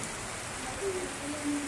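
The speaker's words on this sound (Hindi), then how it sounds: "हमारे यहाँ पे बहुत तेज बारिश हुई हुई है" Heavy rain pouring steadily as a dense, even hiss, with faint talk underneath.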